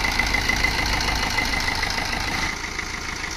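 A 2010 Maruti Swift VDI diesel car engine idles steadily, a close, continuous low rumble with a faint knocking texture and no talk, easing slightly in level near the end.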